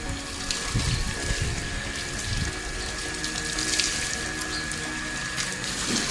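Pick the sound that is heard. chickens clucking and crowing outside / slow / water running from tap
water running from tap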